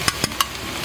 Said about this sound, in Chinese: 给它爆炒一下，炒出香味